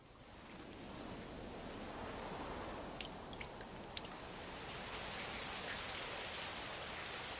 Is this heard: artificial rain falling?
yes